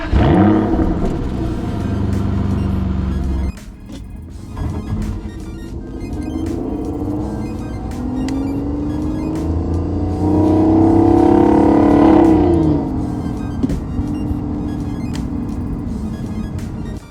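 A 2007 Aston Martin DB9 driving, its engine note rumbling and rising through revs with gear changes, a brief lull then a strong acceleration swell near the middle, heard close with continuous road and motor noise.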